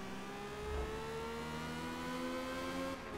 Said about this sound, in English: Ford taking the hairpin at a snail's pace